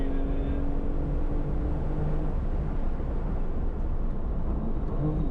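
A BMW M4 street car is driven hard on a race track lap, its engine a loud, steady droning roar with a sustained tone that holds close and constant throughout.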